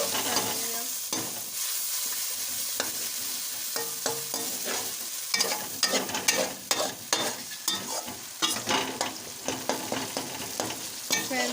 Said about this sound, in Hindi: अब हम इसको मिक्स कर लेंगे।